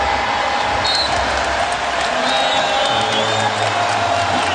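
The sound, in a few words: basketball arena crowd cheering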